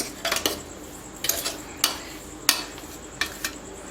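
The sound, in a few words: mixing two spice powders together in a container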